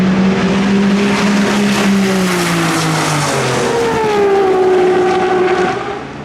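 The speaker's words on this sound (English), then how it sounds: "Those cars are moving." Fast cars at a roll racing event, including Supras, roar past with a loud sustained engine drone whose pitch climbs and then sweeps downward as they pass, fading slightly at the end.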